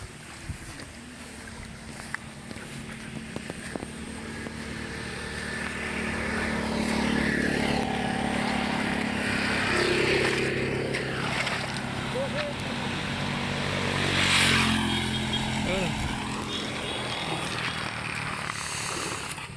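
A motorcycle engine idles then revs and pulls away, rising and fading, with people calling out and talking nearby.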